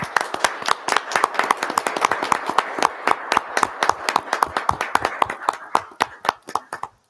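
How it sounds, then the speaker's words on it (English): Audience at a town board state-of-the-town meeting applauds staff with a steady burst of individual hand claps, fairly close and even, thinning out toward the end. "Just give them a round of applause,"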